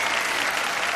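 Studio audience applause on the televised Indian dance contest Jhalak Dikhhla Jaa, a steady, full wash of many clapping hands with no break.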